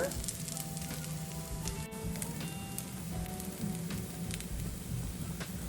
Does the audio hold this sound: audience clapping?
no